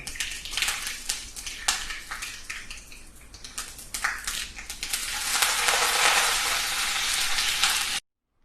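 Mustard seeds crackle and pop in hot oil while tempering for a Kerala prawn and raw mango curry, close, dense sizzling with sharp spattering bursts that swells louder before stopping suddenly.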